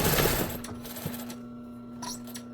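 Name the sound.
sewing machine back stitching fabric for pet bed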